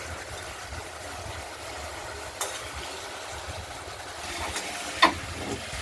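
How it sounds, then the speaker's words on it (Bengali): Ground spice paste for a Bengali rui fish curry with potatoes fries in a pan, giving a soft, steady sizzle, with a few sharp clinks of a spatula stirring it. "মশলাটা কষানো হচ্ছে, এখনো পুরোপুরি কষানো হয়নি।"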